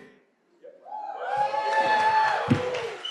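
A crowd cheering loudly at a live event program, with a swelling roar of voices, whoops and laughter and a sharp thump near the end.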